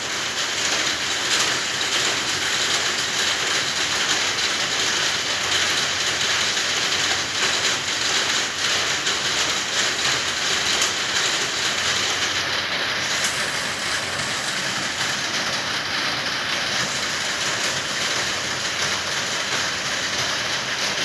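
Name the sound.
rain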